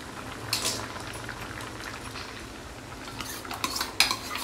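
Gooseberry lentil stew with coriander stems simmering in a pot, a soft bubbling bed with scattered metallic clinks and scrapes of a utensil against the pot, louder knocks near the end.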